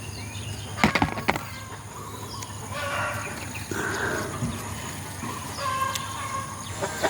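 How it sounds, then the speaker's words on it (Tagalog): Backyard garden chickens cluck intermittently at moderate distance, with a few sharp louder knocks early on and soft scratching between the calls. "So nga ni mga manok"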